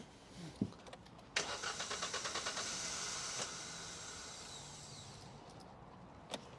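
A small car with injector trouble cranks with rapid, even starter pulses, catches after about two seconds and settles into a steady idle that fades slightly, heard close.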